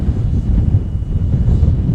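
Strong wind buffets a GoPro Hero11 Mini during a drone test flight, a loud steady roar and rumble that continues throughout with no pauses.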